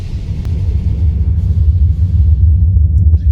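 Thunder rolls on in a played documentary-style video, a heavy continuous low rumble, loud and steady throughout with no voices over it.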